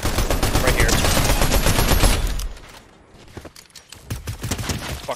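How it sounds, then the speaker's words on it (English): Dense, rapid gunfire in the Fortnite video game, loud for about two seconds and then dropping to scattered, quieter shots with a few louder bursts toward the end. "Oh, I'm getting shot at!"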